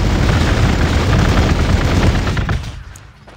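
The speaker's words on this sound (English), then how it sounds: "We will have several people firing on them." Gunfire from Space Marines units in the strategy video game Gladius Relics of War comes as a dense, loud burst of rapid shots and blasts. It fades away over the last second.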